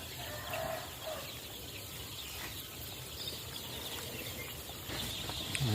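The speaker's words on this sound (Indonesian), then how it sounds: "ayamnya aktif seluruhnya dan makan lahap" Joper chickens active and feeding in a coop, a soft, fairly distant wash of clucking and scratching over steady background noise, with no clear speech.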